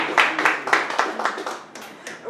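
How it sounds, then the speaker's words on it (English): Scattered hand claps from a small group rise and fade in uneven bursts over a couple of seconds, brief and fairly close, with no voices over them. "go ahead and give yourself a round of applause"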